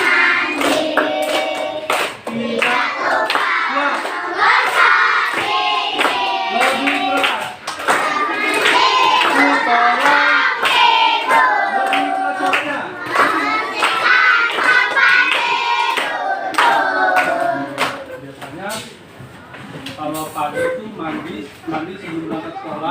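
Children in a classroom clap along in rhythmic bursts, with sharp hand claps under a teacher's voice and lots of chatter.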